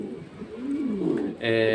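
Pigeon gives a low, close cooing call at a brooding pigeon nest, a rising and falling throaty coo that ends in a louder, steady tonal burst.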